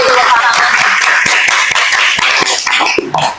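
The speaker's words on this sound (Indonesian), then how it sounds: "Boleh kasih tepuk tangan." Audience clapping for a student's first-place competition win at a campus talk, a dense burst of hand claps lasting about three seconds and easing toward the end.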